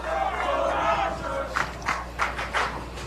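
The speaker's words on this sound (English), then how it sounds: "Drew some oohs and ahs from the crowd here in Cleveland after that comment." Bowling crowd in Cleveland at a professional tournament final reacting with a swelling murmur of oohs and ahs, a loud, broad collective vocal sound that fades, then several short bursts of voices in the second half.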